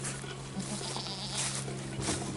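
Goats on a farm on a hot day bleat faintly in the distance over a steady outdoor hum and insect buzz, with a couple of brief calls rising out of the background.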